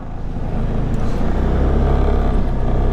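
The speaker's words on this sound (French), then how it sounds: "Oui, je l'ai vu la voiture arriver." A car engine hums steadily and grows slightly louder as the vehicle approaches on a road in Provence, France, with continuous low rumble and no talking.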